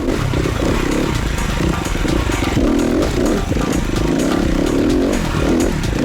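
An SWM RS300R enduro motorcycle rides on an off-road trail, its loud close single-cylinder engine revving and pulling steadily while gravel and debris clatter underneath.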